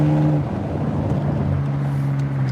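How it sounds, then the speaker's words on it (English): A BMW 325xi car engine, tuned with a 3-stage intake manifold, rumbles steadily with a deep, throaty exhaust tone, held at a constant rev level without sharp surges; no one speaks. "It sounds good with the exhaust too."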